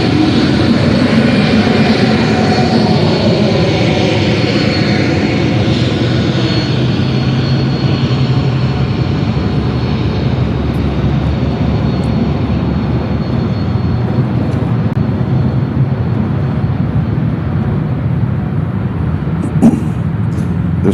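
A FedEx airplane at Memphis International Airport, close by, gives a loud, steady engine roar that fills the whole stretch without letup, with a brief louder burst near the end.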